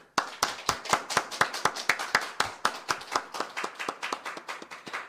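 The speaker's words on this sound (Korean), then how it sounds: "박수 올려드리기 원합니다" A church congregation claps in unison at a steady, brisk beat, crisp close claps repeating evenly and slightly softening toward the end, with no talking over them.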